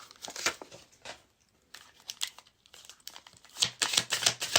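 Emotion cards are handled and shuffled up close, giving crisp papery rustles and flicks in irregular bursts that grow denser and louder toward the end, with no voices.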